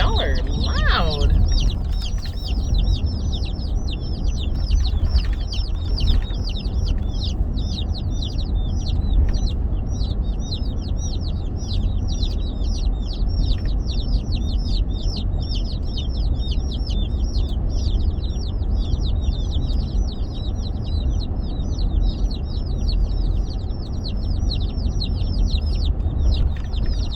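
Baby chicks peeping loudly and continuously in a box inside a moving car after pickup at a post office, dense shrill chirping over a steady low road rumble, with brief speech near the start.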